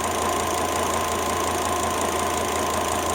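A Volvo XC90 T5 five-cylinder engine idles with a misfire, heard up close as a constant, dense mechanical hum with a buzzing whine and fine uneven ticking.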